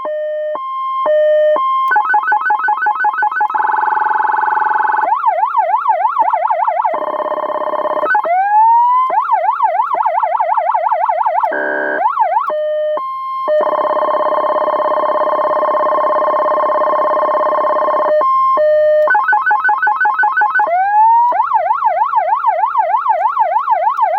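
A Tomar 940 electronic siren amplifier cycles through tones: a rising wail, a rapid warbling yelp and steady pulsing beeps, loud and close, switching abruptly between patterns.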